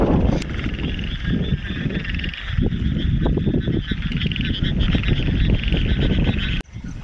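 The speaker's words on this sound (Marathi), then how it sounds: "बघा, सगळ्या बेडकांचा आवाज नुसता" A dense chorus of frogs croaking continuously at night, many overlapping calls close by, with a brief voice near the start and a short break near the end.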